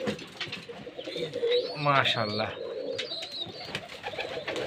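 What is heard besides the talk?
Giribaz pigeons cooing in loft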